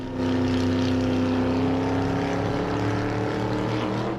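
A motorcycle engine drones loudly and steadily as a rider in an animated story climbs straight up a tower, with the roar continuous and undiminished throughout.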